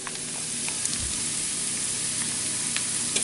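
Eggs frying in a pan for breakfast, a steady broadband sizzle holding even throughout, with faint pops and crackles scattered over it and no talk.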